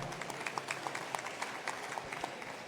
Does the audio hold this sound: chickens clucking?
no